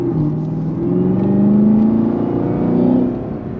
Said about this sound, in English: We're gonna give it some gas here.